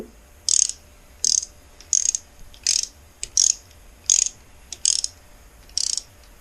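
A hand ratchet turns engine bolts on a 2005 Kawasaki Ninja 250 during a rebuild, giving eight sharp, bright bursts of clicking at a steady rhythm, close and loud, with quiet pauses between them.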